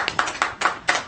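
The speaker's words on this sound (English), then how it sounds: "Again, it's a polite clap is okay" Polite clapping at a school district board of trustees meeting: a few distinct, evenly spaced claps, fairly close and moderately loud, with no talk over them.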